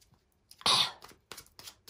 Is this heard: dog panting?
no